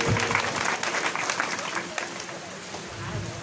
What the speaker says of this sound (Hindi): इन 5 के लिए जोरदार ताली बजाइए